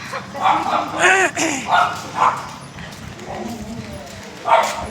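A dog in a village street barks in several sharp, repeated bursts at close range, with short yips between them and a quieter stretch in the middle.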